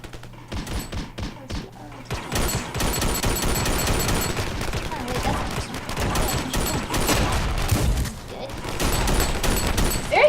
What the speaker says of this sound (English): Okay, go. Oops, shooting thousands of bullets.